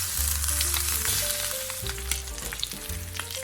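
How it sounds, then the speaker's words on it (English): A block of peeled pork belly browns in a frying pan, giving a steady, close sizzle and crackle of hot fat with a few sharper pops throughout and no talking. "Just brown the surface."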